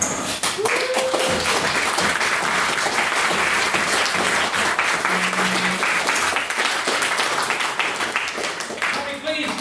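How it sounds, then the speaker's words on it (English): Sustained applause from a debating-society audience after a maiden speech, dense steady clapping throughout with a few brief voices and tones rising through it. "Another round of applause for Mr. Hancock Evans' maiden speech."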